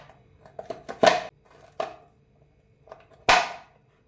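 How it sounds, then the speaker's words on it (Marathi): A knife cuts bitter gourd (karela), seeded, into thin slices on a board, giving a few sharp, irregular chops with small taps between them, close and fairly loud in a quiet kitchen. "आता आपण या कारल्याचे छोटे छोटे स्लायसेस बनवू"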